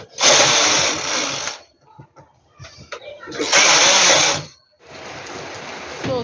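A knitting machine carriage pulling purple yarn across rows at tension 7, heard as loud, harsh whirring sweeps, three passes with short quiet gaps and soft clicks between them.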